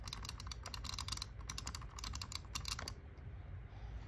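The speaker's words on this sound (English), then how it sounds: "Butterfly click." An 8500 DPI gaming mouse butterfly-clicked at high speed produces a dense, rapid burst of crisp plastic clicks for about three seconds, then stops, leaving faint background hiss.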